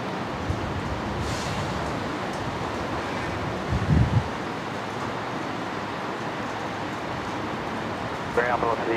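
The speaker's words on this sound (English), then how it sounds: "the wind's drying me out really fast" Wind buffets a microphone outdoors at Brisbane Airport, a constant rough rush with brief thumps, while faint voices murmur underneath.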